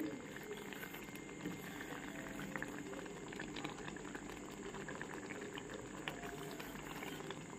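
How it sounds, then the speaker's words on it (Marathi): Jaggery syrup for sweet lemon pickle boiling on a low flame, a steady, dense bubbling and gentle popping that continues evenly throughout, quiet and close. "मस्त उकळी फुटते, ह्याला शिजते."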